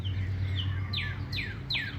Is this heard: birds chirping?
yes